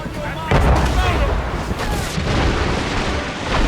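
Naval mortar fire booms out during a ship battle in Assassin's Creed Rogue, with a heavy blast near the start and another about halfway through, over a rumbling battle din while voices shout.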